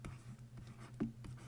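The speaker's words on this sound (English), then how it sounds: "I'm going to write this down." Marker or chalk writing on a board, with soft scratchy strokes in short bursts against a steady low background hum, faint and close.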